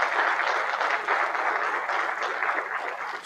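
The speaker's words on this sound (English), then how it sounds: "Let's give them a round of applause." Applause at a school district's State of the Schools event for third- and fourth-grade students, a steady, dense wash of clapping from a large audience, holding at an even level throughout.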